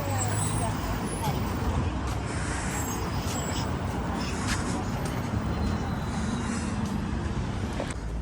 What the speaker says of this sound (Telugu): బస్సు మీద బస్సు పోతున్నది